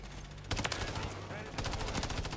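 An MTZ rifle fires in rapid bursts in the video game Modern Warfare 3, loud and close, with dense cracking shots over ongoing game noise.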